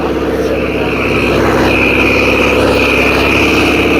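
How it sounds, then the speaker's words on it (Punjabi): A Sonalika tractor engine labours at full effort while hauling a trolley in a pulling contest: a loud, close, unbroken droning roar with a high whine over it. "ਪੂਰਾ ਜ਼ੋਰ ਲੱਗਾ ਹੋਇਆ ਟਰੈਕਟਰ ਦਾ"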